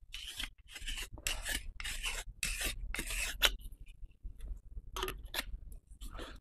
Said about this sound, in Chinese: 慢慢的把它胀大，胀大以后把它插进去，就焊接。